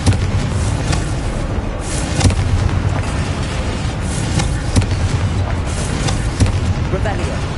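Spell explosions in Hogwarts Legacy: repeated booming bursts from the Confringo fire spell, loud and close, recurring every second or two over a dense rumbling battle background with voices mixed in.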